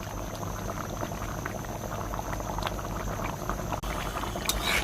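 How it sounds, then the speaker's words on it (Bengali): Chicken curry made with broiler chicken bubbles steadily in a pot as its gravy reduces and thickens, a continuous low simmering burble with no voices. "এগুলো ফুটে মাখা মাখা হওয়া পর্যন্ত আমি অপেক্ষা করব।"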